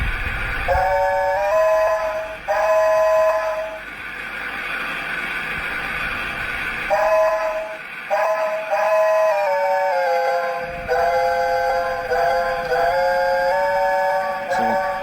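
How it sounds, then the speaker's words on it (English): A Lionel LionChief Hogwarts Express toy train whistle sounds in several sustained multi-tone blasts, a couple of seconds each with short gaps, bright and steady over a low rumbling hum. "you can change the way the whistle sounds"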